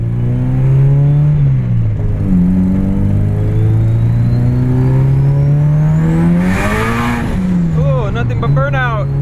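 A tuned Nissan Silvia with an SR20DET engine, running rich, revs hard through a burnout: a loud, close, sustained engine drone that climbs and dips in pitch, with tire noise and a sharp rising whine near the end.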